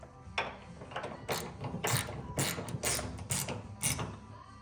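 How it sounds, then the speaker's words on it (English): A 1/2-inch socket wrench tightens a bolt on a snowblower chute rotation kit with quick, repeated ratcheting clicks in uneven bursts, close and fairly quiet. "to tighten your bolt back up for that. So again, 1/2-inch wrench, 1/2-inch socket"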